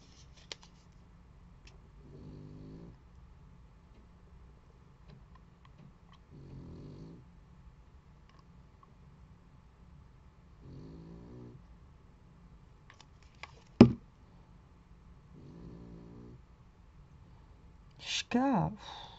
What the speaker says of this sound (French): excusez-moi pour les ronflements, mais j'y peux rien